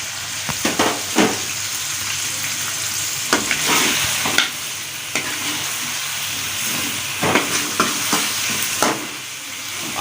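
Chopped tomatoes hit a pan of frying chicken with a steady loud sizzle, broken by bursts of stirring and scraping, with no talk.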